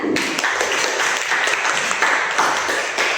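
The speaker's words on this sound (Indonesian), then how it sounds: "Bisa beri tepuk tangan." Classmates in a school lesson applaud a student, dense close clapping filling the whole stretch at an even, loud level with no talk over it.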